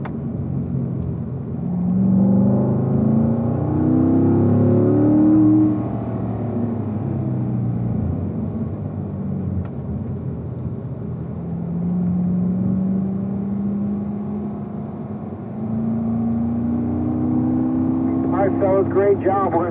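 A race car engine on the Spring Mountain track, heard from inside the car, droning and rising and falling through gear changes and corners, with someone talking over it.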